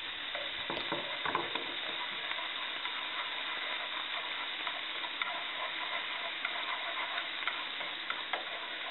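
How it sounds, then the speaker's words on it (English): Tofu, mushrooms and pork stir-fried over high heat, a steady continuous sizzle with scattered scraping and clicking of stirring, close and alone without voices. "because we're sauteing it on high heat, it's a good idea to keep stirring everything to prevent it from getting burnt"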